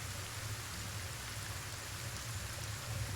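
Steady rainfall in the video game Kenshi, a continuous even hiss of falling rain with a low rumble underneath, no voices.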